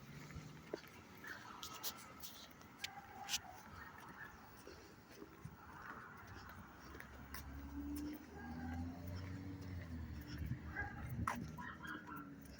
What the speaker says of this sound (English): Now another dog is barking.